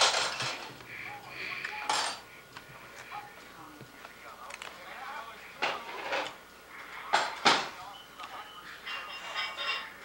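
Dishes and cutlery are handled at a birthday gathering: scattered clinks and clatters of plates and silverware come in uneven bursts, moderately close, with people talking in the background.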